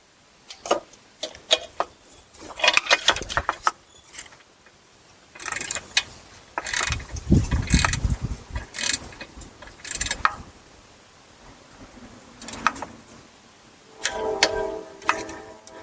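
A torque wrench tightens torque converter bolts to 70 foot-pounds on a Chrysler Town & Country 62TE transmission, giving bursts of ratcheting clicks and metallic knocks separated by short pauses.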